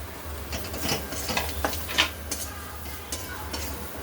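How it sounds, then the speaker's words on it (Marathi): Cut potato pieces being sautéed in oil with onion-garlic masala, a close, moderate sizzle with rhythmic scraping stir strokes and occasional clacks of the spatula against the pan, over a low steady hum, no talking. "आता या फोडी आपल्याला छान परतून घ्यायच्या"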